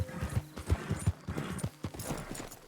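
Horse hooves clip-clopping in Red Dead Redemption 2, a steady, fairly close rhythmic trot of hard hoofbeats with a brief whinny-like touch, no talk.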